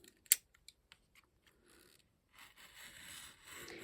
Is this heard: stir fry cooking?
no